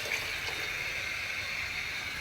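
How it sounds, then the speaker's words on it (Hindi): Water pours steadily from a bottle as a continuous splashing flow, close and moderately loud, with no pauses across the short stretch. "बोतल में कितना पानी है हम डाल देंगे।"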